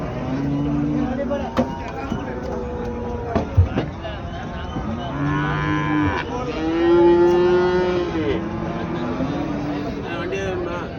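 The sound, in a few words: heifers at a cattle market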